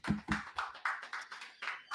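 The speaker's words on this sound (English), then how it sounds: "Clap it up one more time" Audience at a Katt Williams comedy show claps in short bursts, the sharp hand claps near and fairly loud, several rounds coming in a loose rhythm.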